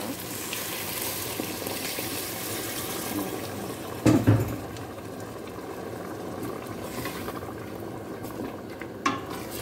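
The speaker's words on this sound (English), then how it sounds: "We will add water," Water poured into a pot of bulgur and meat stew, a continuous hissing sizzle and rush, with a couple of louder clatters of the pot and utensil partway through.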